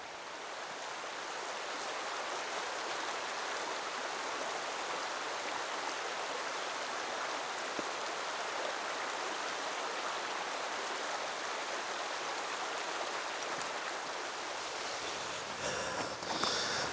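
A mountain creek flows steadily over rocks, a continuous broadband rush of water close by, holding even for the whole stretch with no voices.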